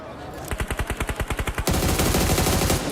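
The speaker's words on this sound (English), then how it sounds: "Fast reactions onto the position of Falag, but the shot's not connecting." Automatic gunfire in the mobile game PUBG Mobile: a rapid string of about a dozen evenly spaced shots, then a denser, louder burst of continuous firing, all close and prominent.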